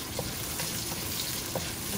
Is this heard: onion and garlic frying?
yes